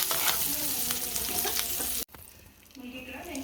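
Curry leaves hit hot tempering oil for an old-style gongura curry, crackling and sizzling loudly close up, then the sound cuts off abruptly and only a quieter, lighter sizzle remains.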